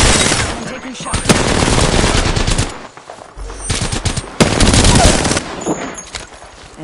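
Bursts of rapid automatic gunfire in an Apex Legends match, loud and close, firing in two sustained volleys separated by a brief pause.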